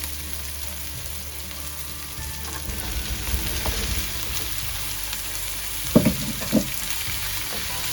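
Pumpkin pieces are tipped into a pan of softened golden-brown onions for a vegan pumpkin curry and stirred, giving a steady soft sizzle with scraping and a couple of sharper knocks near the end.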